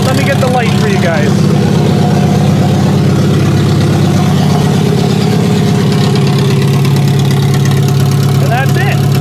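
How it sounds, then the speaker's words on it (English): A 1997-1999 Toyota Camry engine runs on a stand-alone wiring harness with a loud, steady close-up idle that holds an even drone throughout. "That is all it takes for this thing to run."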